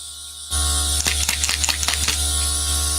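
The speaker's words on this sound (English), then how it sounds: "Sometimes you got to shake them a little bit more." Airbrush product bottles shaken by hand, a steady hum first, then a close burst of quick rattling knocks and clicks lasting about a second before settling back into the hum.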